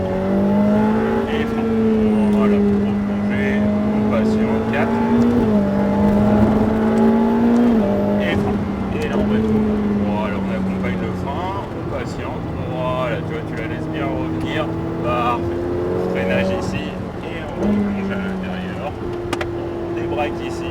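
A Ferrari F8 Tributo engine on a race track at Pau-Arnos rises in loud, sustained revs through several upshifts, its pitch climbing and dropping with each gear change.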